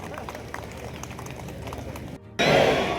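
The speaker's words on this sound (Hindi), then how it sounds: "जरा सा जोरदार तालियों से इनका स्वागत करिए" An audience claps to welcome guests at an inauguration ceremony in Khatima, with steady rippling applause that swells into a louder, denser burst near the end.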